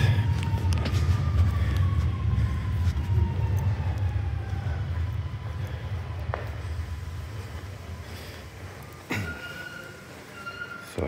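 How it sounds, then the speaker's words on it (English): A Montreal REM light-rail train approaches as a steady low rumble that builds under faint tonal whines, with a sharp clank near the end and no speech. "I hear a train coming along."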